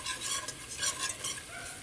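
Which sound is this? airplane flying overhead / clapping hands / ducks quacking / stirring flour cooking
stirring flour cooking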